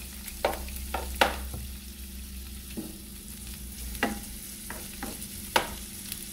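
Washed, peeled shrimp frying in a lightly oiled pan, a steady soft sizzle broken by several sharp scraping stirs of a utensil, close and with no talking.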